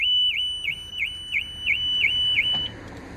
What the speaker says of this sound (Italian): si aprono e fa comunque scattare l'allarme